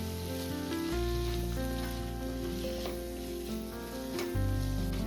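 Potatoes fry in oil for a prawn masala, giving a continuous, even sizzle under steady background music with no talking.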